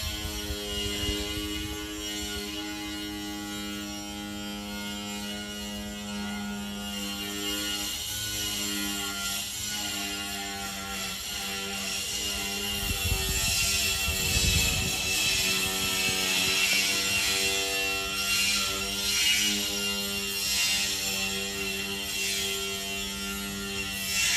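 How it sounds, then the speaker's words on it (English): Construction noise at the Ten Thousand Buddhas Monastery in Hong Kong, a steady mechanical hum and grinding drone with ratcheting texture, swelling louder midway and continuing at moderate distance throughout. "Again, I'm sorry about the construction noise."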